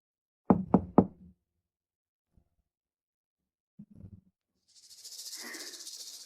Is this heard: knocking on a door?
yes